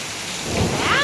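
Hail batters down during a thunderstorm, a loud dense wash of impacts with rumbling thunder beneath, building slightly over a brief stretch.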